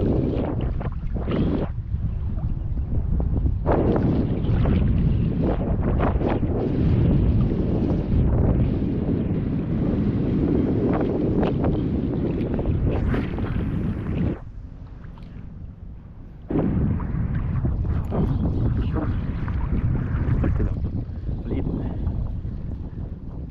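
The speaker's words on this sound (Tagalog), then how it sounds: "Yung hangin." Strong gusts of wind buffet the microphone in loud, rough bursts while fishing in Balabac, with a brief lull partway through before the roar returns.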